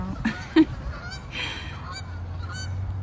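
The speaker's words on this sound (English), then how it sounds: "In the meantime, check out these ducks." Geese or ducks honking at a park, a couple of sharp nearby calls early on, then scattered fainter honks over a steady outdoor background.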